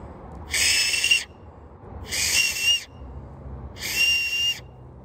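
An acorn shell is blown as a whistle through cupped hands, giving three shrill, hooting blasts at a steady interval. Each lasts under a second and is close and loud, with quiet pauses between and no talking.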